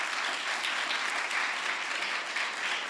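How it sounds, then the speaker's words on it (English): Film festival town hall audience in Malmö giving a round of applause, a dense, even wash of clapping that stays steady and moderately loud the whole time. "a round of applause"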